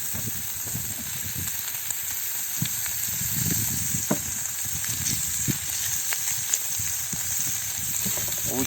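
Lard melts in a frying pan with a steady sizzling hiss, broken by scattered soft pops and crackles, close and moderately loud.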